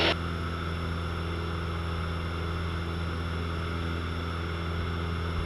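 A Cessna 172 single-engine propeller airplane climbing after takeoff in the traffic pattern, heard from inside the cockpit: a loud, steady engine and propeller drone holds without a break.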